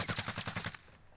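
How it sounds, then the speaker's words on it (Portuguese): Rapid automatic gunfire in Call of Duty Modern Warfare, a loud burst of evenly spaced shots for most of a second, then cutting off into a brief fading tail. "Estão atirando em mim!"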